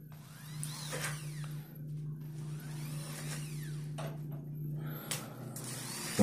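A power drill with a 3.5 mm bit whirs steadily through an aluminium door while fitting a handle, its motor pitch rising and falling in several bursts over a constant low hum.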